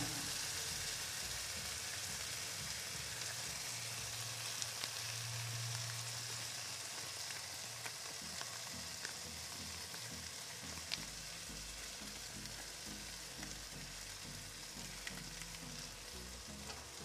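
Menudo with tomato sauce just added sizzles softly in a pan, a low, even hiss with faint stirring taps, fairly quiet and steady with no talking.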